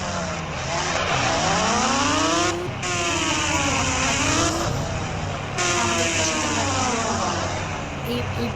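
A motorbike engine revs loudly and close by in three rising and falling sweeps, each cut by a short pause.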